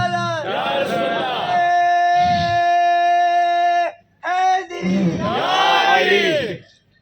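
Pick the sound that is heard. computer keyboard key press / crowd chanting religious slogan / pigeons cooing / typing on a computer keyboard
crowd chanting religious slogan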